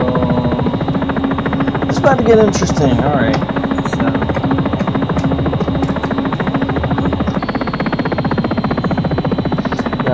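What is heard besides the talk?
helicopter in X-Plane 11 flight simulator video game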